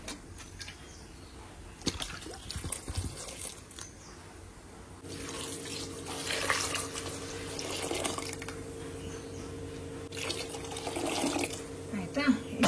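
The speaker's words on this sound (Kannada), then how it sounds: "ಇವಾಗ ಒಂದು ಅರ್ಧ ಕುಕ್ಕರಷ್ಟು ನೀರು ತುಂಬ್ತೇನೆ." Tap water runs into a pressure cooker holding vegetables, a soft steady splashing stream that starts partway through and keeps going to the end, with faint kitchen clatter before it.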